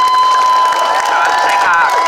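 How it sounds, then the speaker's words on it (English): A crowd at an event against Asian hate cheers and applauds for Kaya in a loud, dense burst with a high whistle-like tone running through it. "get a round of applause for Kaya?"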